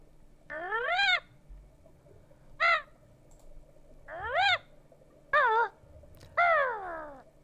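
A cartoonish bird call from the Banjo-Kazooie video game character Kazooie: five short, squawky, pitch-bending warbles with gaps between them, clear and alone.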